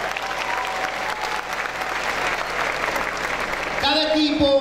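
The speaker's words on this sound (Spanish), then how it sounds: "un aplauso." A crowd at a Venezuelan government Poder Popular training event breaks into sustained applause, a broad steady wash of clapping that runs throughout and swells louder near the end, with a brief tonal sound entering at the close.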